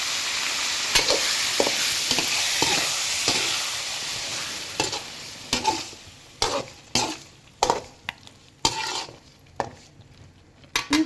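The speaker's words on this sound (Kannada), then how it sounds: "ಸೊ ಆಮೇಲೆ ಇದಕ್ಕೆ ನಾನು ರುಬ್ಬಿಟ್ಟಿರೋಂತಹ ಮಸಾಲೆನ ಇದಕ್ಕೆ ಸೇರಿಸಿ ಮಿಕ್ಸ್ ಮಾಡ್ಕೊಳ್ಳಿ." Ground masala is stirred into capsicum and brinjal curry in a pan: a sizzling hiss up front, then a spoon scraping and clanking against the pan in uneven strokes, close by and with no voices.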